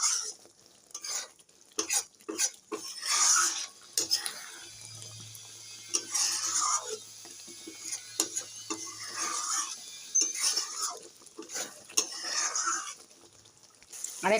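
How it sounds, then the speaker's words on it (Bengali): Chicken curry with fresh cream being stirred in a pan, a spoon scraping and clinking in scattered soft strokes, faint and close, with no talking. "দিয়ে দিলাম ফ্রেশ ক্রিম, ভালো করে একটুখানি তরকারিটা নেড়ে দিলাম।"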